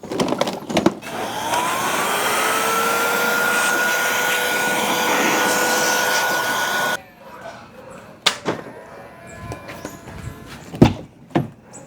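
A loud, steady air blower dries a BYD car during a non-contact wash, roaring continuously for several seconds, then cuts off, leaving quieter clatter and a few sharp knocks.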